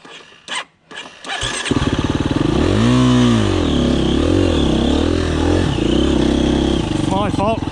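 A KTM 350 EXC-F dirt bike engine starts after a brief stumble, then revs up and down loudly and close by with rising and falling pitch, ending near a steady idle.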